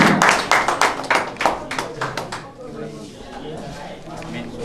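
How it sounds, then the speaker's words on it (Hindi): Loud hand clapping for a contestant at a college quiz event, sharp rhythmic claps for about two and a half seconds that then fade out, with voices talking over and after them. "जोरदार तालियां बजाएं इनके लिए।"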